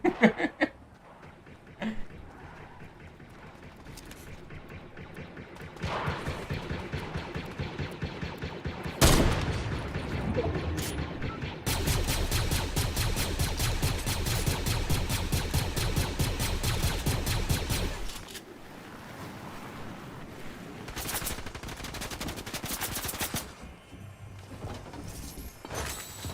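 Gunfire from other players in Fortnite Chapter 3 Season 3, with sharp single shots followed by a long dense burst of rapid automatic fire, loud and close, then scattered shots tapering off.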